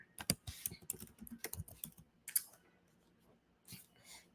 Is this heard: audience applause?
no